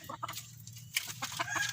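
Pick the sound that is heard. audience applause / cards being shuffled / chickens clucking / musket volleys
chickens clucking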